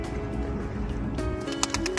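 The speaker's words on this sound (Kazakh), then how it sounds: "Жарайды, көгершіндер олар былай. Күнделікті көретін құстар." Pigeons coo softly amid a busy, low rumbling background at a waterfront in Oskemen, with a few brief chirps near the end.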